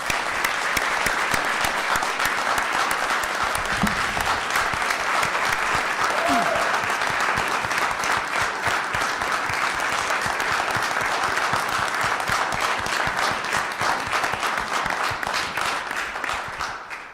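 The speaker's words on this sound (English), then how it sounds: "So I'd like a round of applause for these heroes." A city council meeting crowd breaks into sustained, steady applause for local rescuers, a dense wash of clapping that holds loud for about seventeen seconds before tapering slightly at the end.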